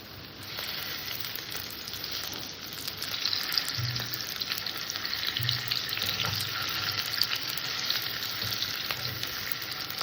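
Banana blossom koftas sizzle steadily in hot mustard oil, a dense continuous frying hiss with a few soft low bumps as pieces settle in the pan, close and alone with no talk.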